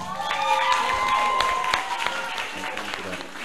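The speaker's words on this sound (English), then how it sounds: "A round of applause." Audience applause for the teams at a girls' graduation and low-code app development competition, steady clapping from a crowd over about three seconds with a few sharp claps standing out, some cheering and a voice mixed in.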